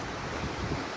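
The Markha River rushing past its bank in Ladakh, a dense, continuous broadband roar of flowing water, loud and close, with no voices.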